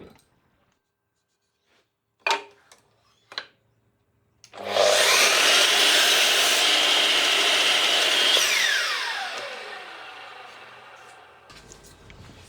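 A Makita LS1219L miter saw spins up loudly and slices through camphor laurel timber with no dust bag fitted, a sustained roaring cut of several seconds that winds down afterward, preceded by a few sharp clicks and knocks.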